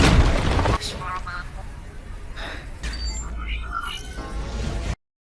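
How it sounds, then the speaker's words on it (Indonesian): In an animated story, a thrown bomb explodes among a pack of monsters with a heavy, loud boom at the start. The blast settles into rumbling effects while a narrator talks steadily over them. "Dia juga sempat membuat sebuah ledakan dengan sebuah bom yang dia lemparnya kepada kawanan monster"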